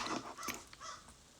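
Crow cawing in a few harsh, ragged calls over about a second, moderately close, with no talking.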